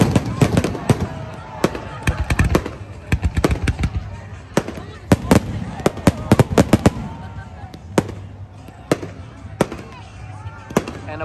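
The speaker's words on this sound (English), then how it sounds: "This is the Coney Island, Brooklyn, New York, Friday night fireworks as seen from in front of" Friday night fireworks at Coney Island, Brooklyn, seen from the street in front of Nathan's. Many sharp bangs and crackling bursts come in rapid irregular clusters, then space out into single loud pops, with crowd noise underneath.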